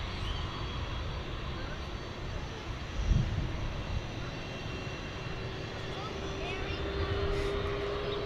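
A Boeing 767 jet airliner at DFW Airport gives a steady, broad engine roar at moderate distance, with a brief thump near the middle and a faint rising whine later.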